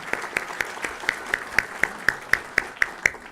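A round of applause for an Eagle Scout at a board meeting, carried by a single steady, rhythmic clapper with about a dozen evenly spaced claps. Faint room noise sits underneath.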